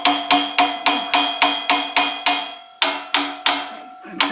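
A hammer tapping a motor into alignment with its pulleys on a K&T 2CH machine, about a dozen sharp metallic knocks in a quick, even rhythm with a short pause partway through, close and clear.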